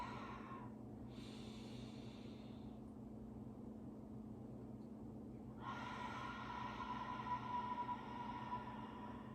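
Long, steady breathy exhale with a whooshing rush of air, close and continuous, with a brief pause before a stronger breath resumes.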